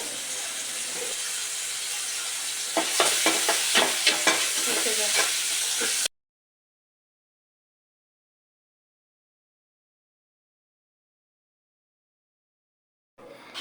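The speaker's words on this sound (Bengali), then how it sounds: "এখন পেঁয়াজ দিয়ে দিছে এদিকে আর তেল। এখন পেঁয়াজগুলো ভাজা হোক।" Onions frying in oil in a pot for an egg and potato korma, a loud continuous sizzle with a series of stirring scrapes, followed by silence.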